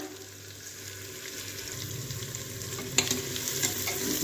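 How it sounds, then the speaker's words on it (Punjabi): Onions frying in a pan for a home-cooked aloo matar curry, a steady close hiss and crackle of sizzling oil with a few sharper clicks near the end, no voices. "ਹੁਣ ਅਸੀਂ ਪਿਆਜ਼ ਨੂੰ ਚੰਗੀ ਤਰ੍ਹਾਂ ਭੁੰਨ ਲਵਾਂਗੇ"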